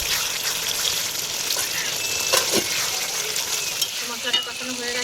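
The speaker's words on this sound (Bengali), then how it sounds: "মশলা প্রায় কষানো হয়ে যাচ্ছে তেল ছেড়ে দিয়েছে" Spice paste (masala) frying in oil for a homemade lentil-fritter curry, a steady broadband sizzle with a few brief scraping stirs, close and continuous with no talk.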